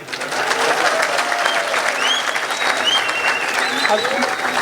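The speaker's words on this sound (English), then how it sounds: "Round of applause for Habib." An audience gives a round of applause during an interview with Khabib Nurmagomedov, steady crowd clapping throughout with a few whoops and cheers and voices rising above it.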